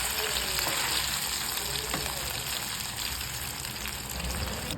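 Cauliflower pieces frying in hot oil for pakoda, a steady dense crackling sizzle running close and loud throughout, with no talking.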